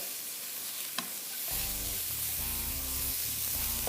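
Garlic and onion sizzle in a pan for chicken drumsticks; a quiet hiss gives way after a sharp tap to a louder, steady frying crackle that carries on close by without speech.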